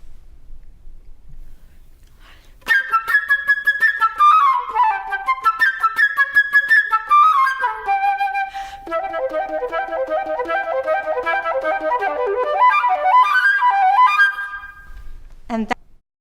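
A flute races through a fast, virtuosic passage of rapid runs and leaps, bright and clear, played solo after a brief quiet start.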